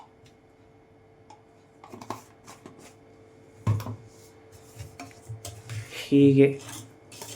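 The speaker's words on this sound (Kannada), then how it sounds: "ಚೆನ್ನಾಗಿ ಮಿಶ್ರಣ ಮಾಡಿಕೊಳ್ಳಿ." A spoon clinks and scrapes against a pan while ghee is stirred in. The metallic taps come in scattered, uneven bursts, and a voice speaks briefly in between.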